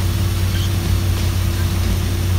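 A car engine idles steadily with no thermostat fitted, a continuous low hum and rumble close by, even and unchanging with no voices.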